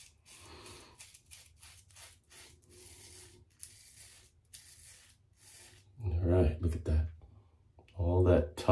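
Short, crisp scraping strokes from a Harry's INK Chrome cartridge razor pulled down through tough stubble, several quick passes, followed by someone talking close over later strokes.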